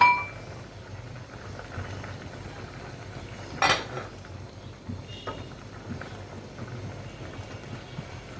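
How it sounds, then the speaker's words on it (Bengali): A lid is lifted off a pot of simmering country chicken curry, giving one brief metallic clink midway through an otherwise quiet kitchen background. "দশ মিনিট পর আমি আবার ঢাকনাটা উঠিয়ে দেখে নিচ্ছি কি অবস্থা"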